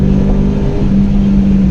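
Vintage Alfa Romeo Giulia Sprint GT engine pulling up through the revs on a twisty road, a steady loud drone with a strong low hum that climbs slightly, heard from inside the car with no talking.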